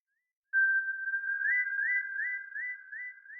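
A synthesized sine-wave whistle preset in melodic house style holds one clean sustained tone, with a layer that repeatedly steps up in short pitch glides, alone and fairly clear.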